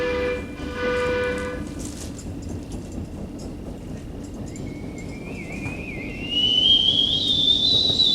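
A train rumbles steadily along, then its horn sounds a sustained, rising tone that grows louder toward the end.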